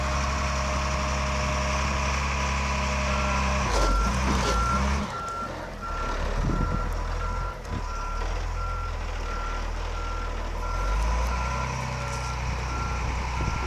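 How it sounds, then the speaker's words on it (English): A 2004 Volvo G710B motor grader sounding its backup alarm, a steady series of evenly spaced, clear beeps over the deep idle of the diesel engine, with a few clunks partway through. "It does have the backup alarm."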